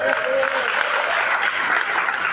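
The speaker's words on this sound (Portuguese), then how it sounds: "dá um aplauso a Jesus aí" A church congregation applauds during a sermon, a dense, steady burst of many hands clapping at full volume with voices mixed in.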